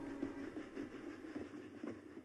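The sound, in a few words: train rushing past a house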